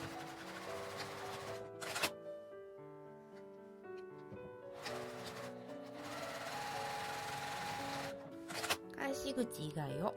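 Sewing machine stitching around a quilted lunch bag along a one-centimetre seam allowance, loud whirring runs of rapid stitching broken by short pauses, under soft background music.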